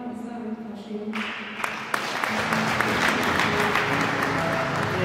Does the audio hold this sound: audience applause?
yes